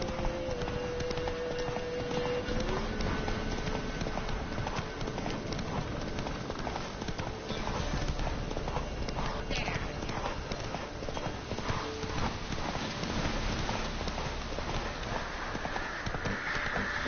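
Roach the horse gallops in The Witcher 3, steady rhythmic hoofbeats pounding loud and close over a continuous game soundscape with faint background tones.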